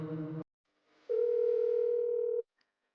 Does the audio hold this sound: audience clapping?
no